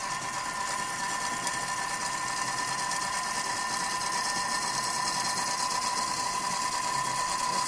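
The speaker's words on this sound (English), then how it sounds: "as the peanuts grind, they will produce their own oil" A food processor steadily grinds peanuts into crunchy peanut butter, a constant loud motor whine with a buzzing, sewing-machine-like drone that holds unchanged from start to finish, with no voices.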